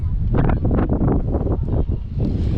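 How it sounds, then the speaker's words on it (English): Strong wind gusting at an outdoor show jumping venue during a tornado-threatened camping trip, buffeting the microphone in loud, uneven bursts of roaring noise with no clear voices. "The wind has definitely gotten worse."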